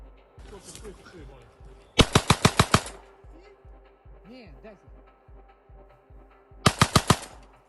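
Two bursts of rapid, heavy MK-19 automatic grenade launcher fire, each about half a dozen thumping shots, ring out loud and close over a steady rhythmic throbbing, with voices in between.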